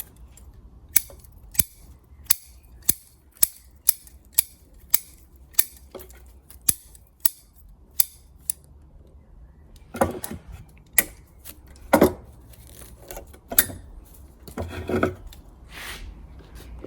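Pruning shears snip long shoots off a larch conifer in a steady series of crisp, close clicks, then a few louder, rougher cuts with rustling twigs near the end.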